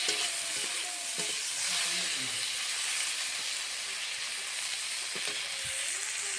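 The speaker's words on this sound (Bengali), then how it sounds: "তেলাপিয়া মাছ এখানে ভাজা হচ্ছে" Tilapia fish seasoned with turmeric and salt sizzling steadily as it fries in hot oil, a continuous close crackling hiss with occasional faint clinks and stirring underneath.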